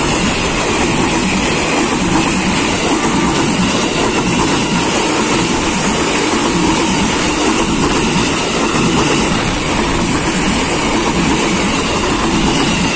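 A JR 205 KRL commuter train passing near the Depok switches, a loud, close, continuous rumble of wheels and carriages rolling by with faint rail clatter throughout.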